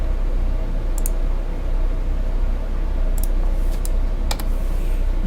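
Computer keyboard keys clicked in a few quick, distinct bursts over steady background hiss.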